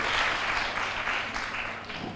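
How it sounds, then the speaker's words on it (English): Conference audience clapping for a professor taking the stage, a short burst of fairly loud, dense applause that stays steady and thins slightly at the end. "Please round of applause for Prof."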